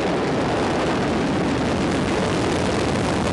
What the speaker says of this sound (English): We have booster ignition and liftoff of the space shuttle Atlantis